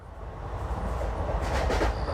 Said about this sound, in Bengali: ট্রেন এসে থামলো ঢালা স্টেশনে।